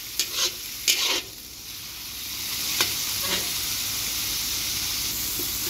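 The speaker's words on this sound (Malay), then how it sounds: "kita tumis sampai dia naik bau sampai dia pecah minyak sikit." Chili paste sizzling in hot oil with a constant hiss, broken early by a few scraping stirs of a utensil in the pan.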